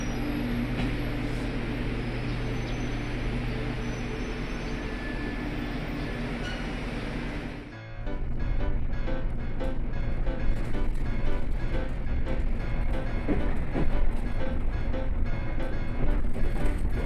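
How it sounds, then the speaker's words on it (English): A rapid train bound for Nogata pulls out of Keisen Station in Fukuoka Prefecture, a steady loud hum and rumble that shifts about midway into a rattling, clacking run of wheels over the rails, with no voices. "The rapid train bound for Nogata departed from Keisen Station."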